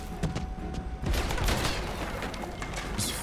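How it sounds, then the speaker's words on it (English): Sniper rifle shots in a video game trailer, several booming reports mixed into a loud, dense wash of game sound with no voices. "it's fucking sniper shots. I mean, it's kind of expected it to be loud"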